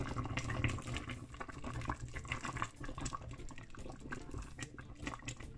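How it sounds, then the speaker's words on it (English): Sea moss and bladderwrack gel boils in a pot, giving a quiet, continuous bubbling and popping with soft liquid gurgles, close and faint, with no voices. "So I'm gonna let it boil"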